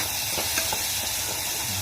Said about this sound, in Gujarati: હવે ખાંડેલું લસણ નાખે છે પેલા લસણનો વઘાર લીધો